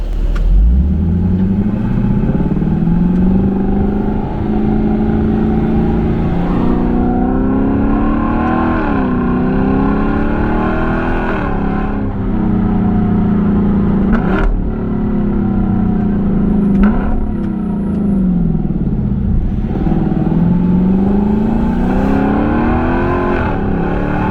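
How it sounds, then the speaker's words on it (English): A loud engine of a 2022 Lexus LC500 sports car revs hard and repeatedly, pitch climbing and dropping sharply through several downshifts, close and continuous. "The downshifts, it just sounds like power."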